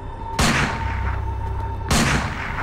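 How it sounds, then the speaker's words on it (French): Two sharp, loud gunshots ring out about a second and a half apart, each with a booming decay, in a reconstructed roadside killing of a couple. "Des coups de feu éclatent."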